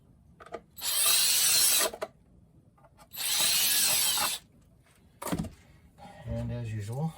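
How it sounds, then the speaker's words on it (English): Power drill enlarging holes in a chest box, with two sustained whirring bursts of about a second each and a shorter third burst, close and loud, with handling clicks between. "I drill these holes out just a tad bigger"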